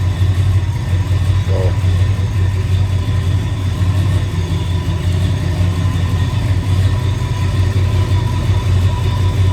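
A 1968 Ford truck engine runs at a steady idle, a loud, continuous low rumble with an even hum that holds unchanged and close throughout.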